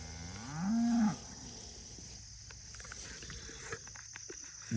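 Cattle on a farm let out a single loud, drawn-out moo near the start while being herded, followed by quieter outdoor background with faint insect chirping.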